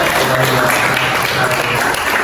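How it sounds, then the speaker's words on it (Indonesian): Students in a religious education classroom lesson applaud one another, a continuous, fairly loud patter of clapping close by, with a low voice murmuring beneath it. "Tepuk tangan dong untuk kalian semua"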